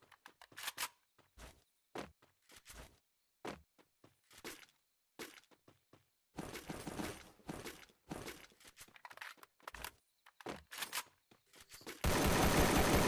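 Free Fire video game gunfire: sharp shots in scattered single bursts, then a dense stretch of rapid automatic fire, ending in a sustained loud noisy burst.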